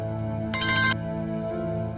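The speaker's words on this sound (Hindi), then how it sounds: "फोन।" A phone rings with a short, bright electronic ringtone burst of under half a second, loud and close over a steady musical background in a Hindi TV family drama scene.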